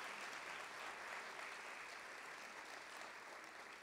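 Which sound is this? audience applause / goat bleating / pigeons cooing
audience applause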